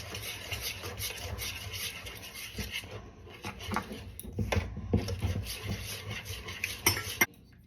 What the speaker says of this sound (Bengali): যত ভালো করে ফেটানো হবে, যে কোনো বড়াই যত ভালো করে ফেটানো হবে তত ভালো হবে।